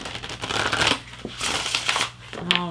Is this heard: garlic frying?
no